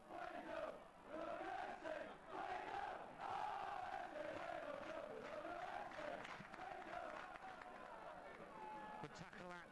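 Rugby league stadium crowd at Hull versus Widnes, a continuous loud roar of many voices with rising shouts and chanting, swelling and holding for the whole stretch, with a brief burst of clapping near the end.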